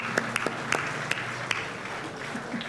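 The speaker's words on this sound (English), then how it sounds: "So I think that's a great big round of applause." Applause rises at a media awards ceremony, a fairly soft, steady patter of clapping from a seated audience in a hall, punctuated by a few sharper close claps and faint voices underneath.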